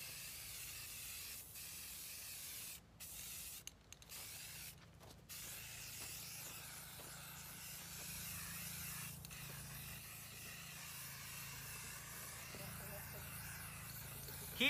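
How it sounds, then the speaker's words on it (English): Steady hiss of a spray can painting a wooden chair, running almost continuously, broken by a few brief pauses early on, fairly close with faint outdoor background. "Keep the spray can moving."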